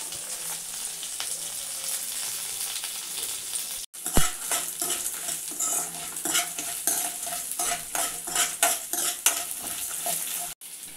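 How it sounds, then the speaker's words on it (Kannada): Coriander, cumin, pepper, cinnamon and cloves dry-roast in a pan for chicken sambar, with fast, repeated spatula scrapes and clinks over a soft sizzle, close and busy, briefly broken by a couple of sharp pauses. "ಈಗ ಜೀರಿಗೆ, ಮೆಣಸು, ಚಕ್ಕೆ, ಲವಂಗ ಎಲ್ಲ ಹಾಕ್ತಾಯಿದ್ದೀನಿ."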